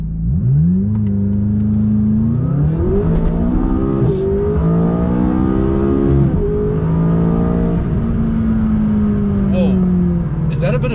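A McLaren 570S launching under launch control, its engine note climbing through rising revs with a brief lull of turbo lag before surging on, loud and close inside the cabin.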